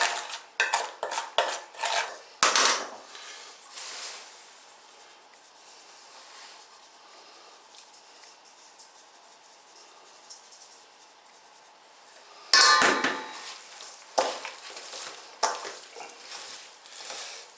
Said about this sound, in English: Mix the spices with the meat.